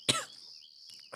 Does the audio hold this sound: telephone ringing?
no